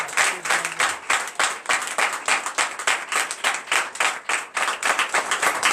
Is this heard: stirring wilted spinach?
no